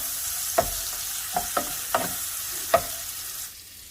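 Fresh ingredients for omurice being sautéed in a pan, a soft steady sizzle broken by a handful of sharp stirring knocks and scrapes, close up, before the sound drops away.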